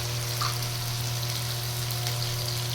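Spices, turmeric and coriander powder, frying in oil for a tangra fish curry, a dense continuous sizzle under a steady low hum, close and even throughout, with no voices.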